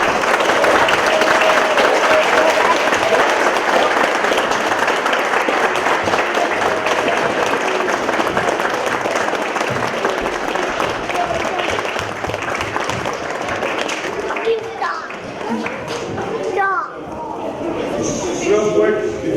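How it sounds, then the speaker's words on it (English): Cub Scouts of Pack 34 and their audience applaud the newest Boy Scouts at a crossover ceremony, a loud, sustained round of clapping that thins toward the end as voices and cheers come through. "rise and give a round of applause for our newest scouts, the Boy Scouts of America"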